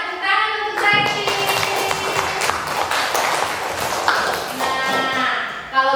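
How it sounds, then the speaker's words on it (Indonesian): Students in a primary classroom clap together for a classmate at a teacher's request, a dense burst of hand claps lasting several seconds and mixed with faint voices and room noise. "Tepuk tangan untuk Zaki."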